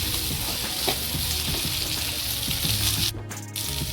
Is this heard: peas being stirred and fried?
yes